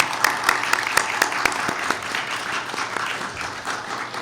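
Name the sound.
church congregation applauding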